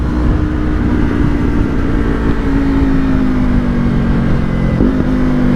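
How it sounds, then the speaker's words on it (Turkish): A motorcycle with a failing exhaust rides on patched asphalt. A steady, fairly loud engine drone runs under wind rush, and its pitch shifts and climbs briefly near the end. "Şu anda çatara patara egzoz kafayı yedi."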